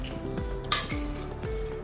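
Metal pots and dishes clatter and clink as cooked horse gram curry is moved from a pressure cooker into a curry pot, a few close knocks and scrapes over steady kitchen background noise.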